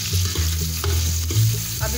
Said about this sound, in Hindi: अब ये प्याज डाल के इसको हल्का ब्राउन करूँगी।